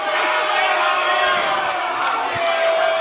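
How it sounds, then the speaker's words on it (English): A live audience boos loudly at a man blowing a whistle as he comes up on stage, a continuous roar of massed voices holding steady throughout. "The crowd's booing."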